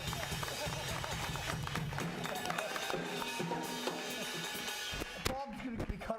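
Comedy show audience in Staten Island clapping for a performer flexing his biceps, steady dense applause with crowd noise and a voice speaking over it before it thins out.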